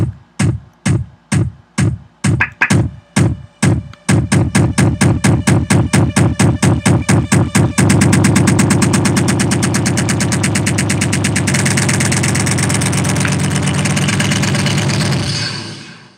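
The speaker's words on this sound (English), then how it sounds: "So if you were to listen to that along with the drum beat that I have, the drum build" Electronic drum hits repeat faster and faster into a dense roll, with a bright synth layer swelling underneath until it cuts off abruptly.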